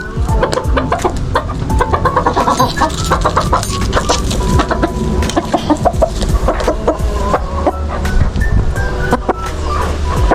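Chickens and a tethered breeding rooster cluck steadily and densely throughout, many close overlapping calls forming a constant farmyard chatter.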